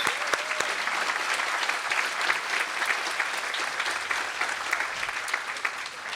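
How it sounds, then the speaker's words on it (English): A ceremony audience applauds the Board of Trustees at an Armed Forces Day event, steady clapping from many hands sustained for several seconds, fairly close and lively with no talking over it. "let's give a little round of applause for our Board of Trustees"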